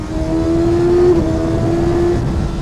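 A Kawasaki ZX6R motorcycle engine revs loudly and steadily up close, a sustained roar with a rising and falling tonal whine over constant rumble.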